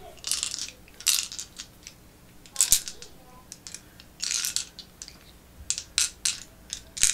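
Several dice rolled for the Arcadia Quest board game make repeated bright clattering bursts as they tumble and rattle across the table, close by and fairly quiet between rolls.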